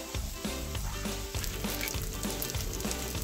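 Ground spice paste sizzles loudly in a pan with potato and pointed gourd, a steady close crackle and hiss with occasional stirring scrapes.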